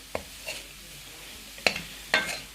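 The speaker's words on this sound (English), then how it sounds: "So just keep an eye and keep stirring it." Cauliflower browns in a pan over a soft frying hiss, and a spatula scrapes and stirs it in three or four sharp, separate strokes.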